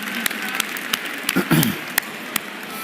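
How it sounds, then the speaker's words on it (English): A few scattered, distinct hand claps from an audience at a storytelling workshop, spaced irregularly over a faint room background, with a brief low voice murmuring midway. "give yourselves a big round of applause, everybody"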